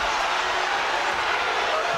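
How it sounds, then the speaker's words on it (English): A basketball arena crowd at a Clemson vs. Virginia Tech women's game gives a sustained, dense roar of booing after an offensive foul call, with no break through the whole stretch. "Some boos from the crowd as it's an offensive foul called on Wenzel"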